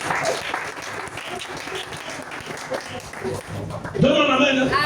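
A church congregation breaks into applause and cheering under a preacher's loud speech, the clapping building toward the end as a voice rises in a sung or shouted acclamation.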